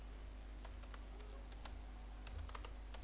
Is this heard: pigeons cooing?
no